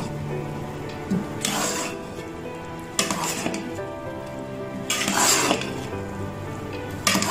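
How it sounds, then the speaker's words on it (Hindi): Spatula scrapes and clatters against a pan as mixed fried rice is stirred over the heat. Louder scraping bursts come roughly every two seconds over a constant low sizzle. "अब सारे चावल को अच्छे से मिक्स कर लेंगे।"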